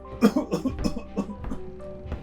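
Several rough coughs and throaty choking sounds in quick, uneven succession, close by, with some background noise underneath.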